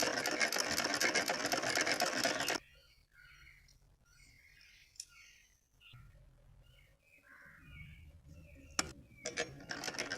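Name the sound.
sewing lace onto doll dress sleeves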